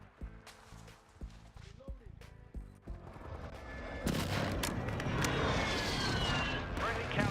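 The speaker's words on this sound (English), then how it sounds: "Friendly airstrike in the AO." An airstrike in the video game Call of Duty: Modern Warfare 2, heard as weapon mechanisms and clicks at first, then a sustained loud roar of explosions and gunfire filling the last few seconds.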